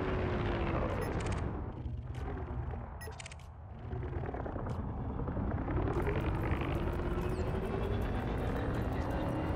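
A gimballed shock cannon firing in a space combat game, a loud sustained roar of heavy, crackling discharges with a dip partway through and rising metallic whines.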